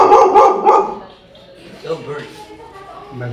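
A dog barks a few times up close, mixed with a short yip, followed by quieter indistinct sounds.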